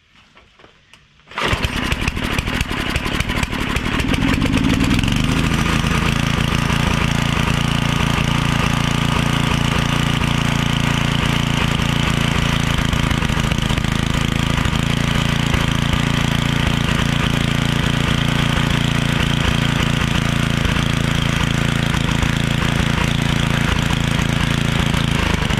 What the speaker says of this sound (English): Let's choke on, throttle up,